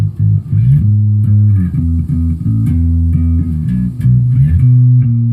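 An electric bass guitar plays a church-song bass line, stepping from a low E down to B with one extra E hit before the drop, sustained, close and loud, with no voices.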